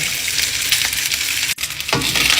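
Cooked rice stirred into garlic in a hot frying pan for Filipino garlic fried rice, with a loud, steady sizzle and brief scraping strokes that pause for a moment before the sizzle resumes.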